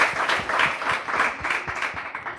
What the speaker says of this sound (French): Est-ce qu'on peut l'applaudir encore une fois? On applaudit pour elle.